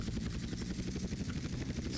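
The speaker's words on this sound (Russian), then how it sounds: "Посадка вертолета." Helicopter rotor thumping steadily in GTA San Andreas as the aircraft comes in to land, a continuous loud pulsing drone with no talk over it.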